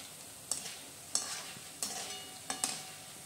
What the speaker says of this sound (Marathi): तर आपल्याला हे चांगलं तळून घेऊ।